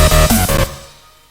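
A solid, punchy synthesized FM bass plays dry with its effects switched off: a few short, loud, tonal notes in quick succession, then a fading tail.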